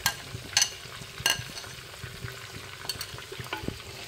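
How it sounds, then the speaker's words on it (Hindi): Spice masala paste frying in oil with browned garlic for a spicy squid dish, a soft steady sizzle with a few sharp clinks of a stirring spoon against the pan near the start. "इसके बाद हम इसमें मसाला अच्छे से भून लेंगे"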